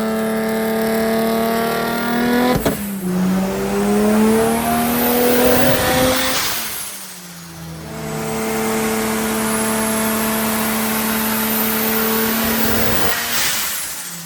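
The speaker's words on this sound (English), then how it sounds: "But the car is running now at least, which is very good, and it sounds amazing" A 700+ horsepower drift car engine, freshly built and still troubled by wastegate issues, revs loudly and close up in rising, sweeping pulls, with a short drop between bursts before climbing again.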